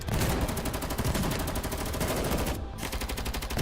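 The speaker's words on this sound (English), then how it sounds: "Are those gunshots?" Rapid gunfire in the video game Girls Frontline 2: Exilium, a dense sustained burst of automatic shots with a brief gap before the firing resumes, loud and continuous throughout.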